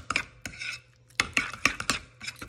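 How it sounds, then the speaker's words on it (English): Spoon knocking and scraping in a bowl while stirring ricotta topping with pepper and seasonings for Brussels sprout flatbreads, a quick series of sharp clinks and taps close by, alone in a quiet kitchen. "we're just gonna stir this all together"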